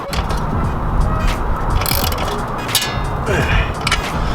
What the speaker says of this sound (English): we're gonna just tighten it up